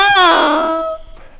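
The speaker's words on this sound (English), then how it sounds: "If you play the reed by itself, it sounds a little funny, maybe even a little weird" A bassoon double reed blown alone without the instrument, giving a single loud, buzzy, squawking tone that wavers in pitch like a duck call or crying baby, lasting about a second before cutting off.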